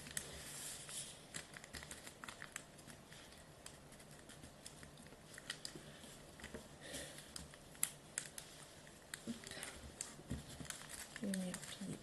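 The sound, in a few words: folding an origami paper rocket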